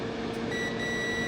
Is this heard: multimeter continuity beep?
yes